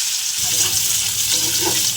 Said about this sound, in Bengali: মাছগুলো সব ভাজা হয়ে গেছে, তো আমি পেঁয়াজ দিয়ে দিলাম।